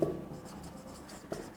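Pen or chalk scratching out equations during a complex-variables lecture, a soft continuous scraping close by with a couple of faint taps, no talking.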